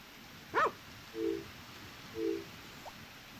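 Dog in the farming video game Harvest Moon: Back to Nature gives a single short bark followed by two brief tonal yips, spaced about a second apart, moderately loud over a faint background hum with no talking.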